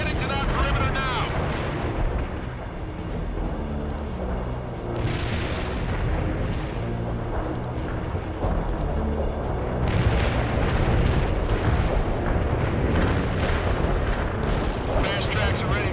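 Tank cannons and explosions roar through a real-time strategy battle in World in Conflict, a dense, continuous barrage of booms and gunfire with radio-style voice chatter layered over it.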